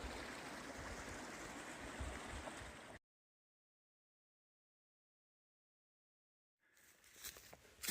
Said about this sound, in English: Here it is, the obligatory pretty water feature,